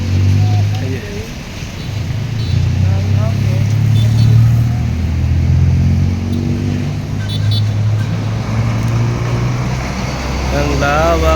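Heavy road traffic in Naga, with a continuous low rumble of car engines and passing vehicles close by, steady for the whole stretch while people talk over it.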